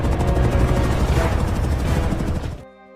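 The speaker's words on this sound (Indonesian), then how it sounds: "saat helikopter mendekati lokasinya" A helicopter approaching, with loud, dense rotor thumping and engine roar holding steady for about two and a half seconds before cutting off abruptly.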